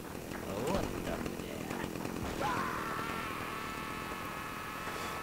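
Chainsaw buzzing in the video game Stubbs the Zombie, a steady mid-distance whine running through the whole stretch, partly under someone talking over it.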